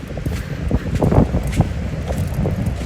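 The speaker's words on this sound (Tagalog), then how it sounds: "Ang lakas ng hangin." Strong gusty wind at a Pacific Ocean beach on Jomalig Island buffets the microphone in irregular rumbling bursts, loud and close, with no voices.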